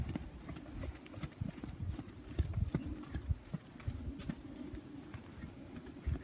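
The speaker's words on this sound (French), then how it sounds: "Et là, tu as un cheval qui travaille." A horse working in a riding lesson gives repeated hoof clip-clops in an irregular walking rhythm, moderately near and fairly quiet, with faint bird cooing in the background.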